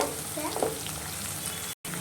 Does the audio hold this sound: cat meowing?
no